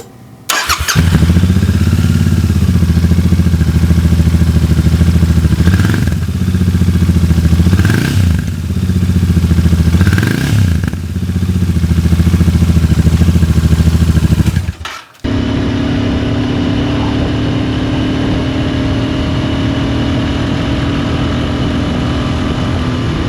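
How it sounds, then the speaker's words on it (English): A Royal Enfield INT650 twin-cylinder motorcycle idles and revs with a deep exhaust rumble, loud and close, rising and falling across several throttle blips before cutting to a steadier engine hum. "On this bike, the exhaust to me sounds decent."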